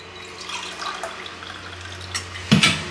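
Water poured into a cooking pot for rice makes a steady, close trickle, ending with a brief, louder splash.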